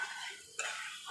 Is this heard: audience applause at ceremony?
no